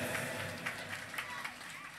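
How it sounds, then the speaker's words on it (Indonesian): A crowd at a comedic Islamic sermon on a stage in Sukabumi applauds the neighbourhood head, a dense, continuous wash of clapping and crowd noise that fills the whole moment. "Tepuk tangan buat si RT"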